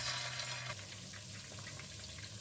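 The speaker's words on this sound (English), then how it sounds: "Fry it in a medium simmer." Chicken lollipops sizzle in oil at a medium simmer, a steady faint hiss of frying that runs on alone for a couple of seconds.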